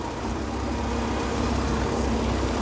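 A car rolls off the road into a farm field of sunflowers, its engine producing a steady, close, low rumble that holds even and continuous for the whole stretch.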